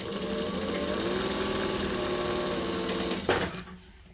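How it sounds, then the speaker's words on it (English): A sewing machine runs in one steady burst while top stitching the folds of a fabric clutch, a close, even whirring hum that stops abruptly near the end, with no talking. "we're going to just top stitch all of the folds"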